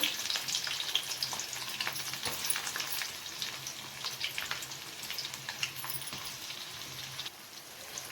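Onions frying in a pan for homemade mushroom curry give a steady, fine crackling sizzle with scattered sharper pops, moderately quiet and with no talking.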